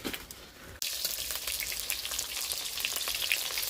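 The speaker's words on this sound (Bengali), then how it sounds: "মাছ ভাজা হচ্ছে" Fish frying in a home kitchen pan gives a steady, dense sizzle that bursts in loudly after a short quieter lead-in and continues with crackling spatters, no talking.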